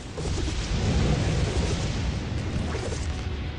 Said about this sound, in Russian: Молнии.